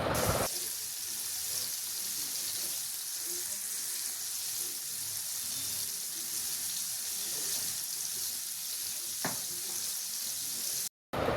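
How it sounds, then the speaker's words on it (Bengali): Pieces of tandoori malai chicken fry in a pan over low heat, giving a steady, soft, continuous sizzle with one brief sharp click partway through. "ঠিক এভাবে আমাকে এইভাবে চিকেন তন্দুরিটাকে ফ্রাই করে নিতে হবে"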